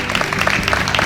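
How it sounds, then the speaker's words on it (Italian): Brief burst of audience applause for Miss Italia Veneto contestants at a pageant event in Jesolo, a dense patter of many hands clapping at moderate loudness. "vi meritate questo applauso per questo"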